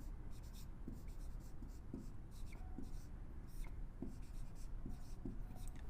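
Someone writes a sentence on a board during a Hindi grammar lesson. Chalk or a marker scratches softly in repeated short strokes over a faint room hiss, with a voice heard only quietly.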